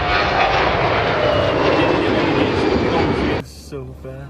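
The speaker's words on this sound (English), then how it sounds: "Both jets performed impressive flybys and maneuvers during the event." An Airbus A319 or Fokker 100 jet roars past at an air show, a loud, broad engine rush that holds steady and then cuts off sharply, followed by a few people talking.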